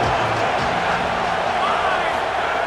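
Stadium crowd roaring steadily in the football video game College 27 during a big third down, a dense continuous wash of cheering with no distinct breaks, under a commentator's voice.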